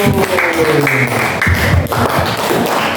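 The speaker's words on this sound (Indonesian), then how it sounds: "tepuk tangan untuk kelompok 1" Classroom students clapping for a group after its presentation, loud close claps mixed with tapping and thumps on desks, with some voices under the noise.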